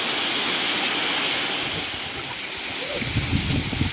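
A waterfall on Brahmagiri mountain near Nashik, the source of the Godavari, roars as a broad, steady rush of falling water, loud and close, with a slight rise in low rumble toward the end.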